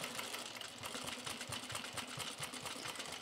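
A sewing machine with a buttonhole attachment runs steadily on jeans, its rapid needle strokes forming an even mechanical chatter close by, with no talking.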